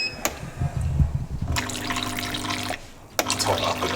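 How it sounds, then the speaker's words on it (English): Hot water pours into a cup of black coffee, a steady liquid stream with a rising filling tone, briefly pausing and then resuming near the mic. "just put a little bit of hot water in"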